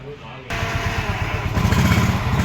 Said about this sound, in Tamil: வண்டி பார்த்தீங்கன்னா ஸ்டார்ட்லாம் ஆகுது